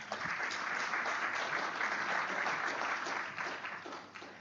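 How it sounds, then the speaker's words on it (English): An audience at a Middle East Institute panel event on Lebanon applauds its guests, a dense, steady round of clapping that holds for several seconds and then tapers slightly at the end. "Let's just have a quick round of applause for our guests"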